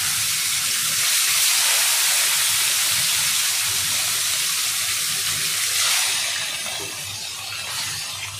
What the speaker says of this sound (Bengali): এখানে তেল গরম হয়ে গিয়েছে, মাছগুলোকে দিয়ে দিচ্ছি এক একটা করে।